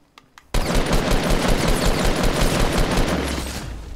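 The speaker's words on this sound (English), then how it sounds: "I heard gunshots." Rapid automatic gunfire from the video game Fortnite erupts after a brief quiet moment, a dense, loud, continuous burst of shots that carries on for several seconds before easing slightly.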